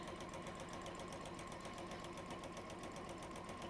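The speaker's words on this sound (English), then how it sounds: "So I'm running down the side seams just so to let you know where we're up to." A sewing machine runs steadily as it stitches down the side seams of a bag, a continuous fast rhythmic whirr at close range with no talking.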